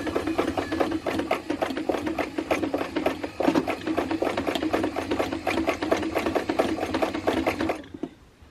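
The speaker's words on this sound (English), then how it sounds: "put the needle into the work and then we can sew some" Old sewing machine running a straight stitch on fabric, a fast rhythmic clatter of needle strokes heard up close for about eight seconds before it stops abruptly.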